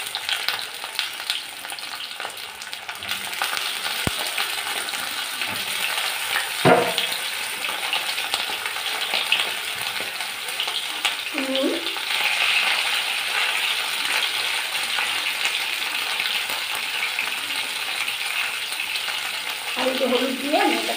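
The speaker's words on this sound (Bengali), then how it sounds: "আমি এই পটলগুলো তেলের মধ্যে দিয়ে দিচ্ছি। পটলগুলো এখন ভেজে নেব ভালো করে।" Pointed gourd pieces fry in hot oil with a steady, loud sizzle throughout, punctuated by a few scraping stirs and clinks of a utensil against the pan.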